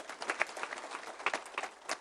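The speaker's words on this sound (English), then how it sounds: "Please, another round of applause for Waziri." Faint applause from a conference audience, scattered claps pattering steadily at a distance.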